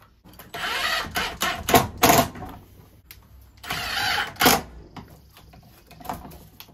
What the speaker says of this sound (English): Now we will take our new larger double gating box and screw it into the wall